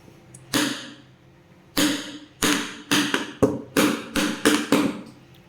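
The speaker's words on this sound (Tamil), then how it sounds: "ஒரு 2 டைம் டேப் பண்ணிங்கன்னா உங்களுக்கு ஏர் பபிள்ஸ் இருந்துச்சுன்னா ரிலீஸ் ஆகிடும்" A cake tin full of chocolate cake batter is rapped against a counter again and again to knock out air bubbles. About nine sharp, close knocks come in an uneven rhythm, with no talking.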